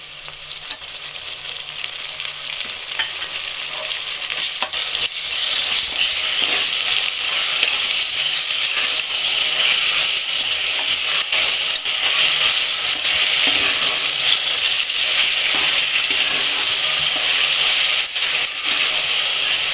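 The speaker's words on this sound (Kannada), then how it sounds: "ಚೆನ್ನಾಗಿ ಹಸಿ ವಾಸನೆ ಹೋಗೋ ತನಕ ಹುರ್ಕೋಬೇಕು ಶುಂಠಿ ಬೆಳ್ಳುಳ್ಳಿ ಪೇಸ್ಟು" Ginger garlic paste fries and is stirred in a pan while cooking tomato bath, giving a loud, steady sizzle with scraping stir strokes throughout, no talking.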